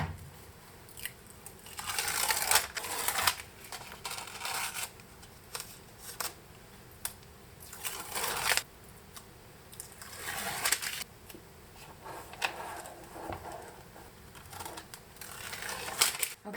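Adhesive tape crackles and rips in irregular bursts as it is pulled and pressed into place to mount a battery in a homemade box, close and fairly quiet.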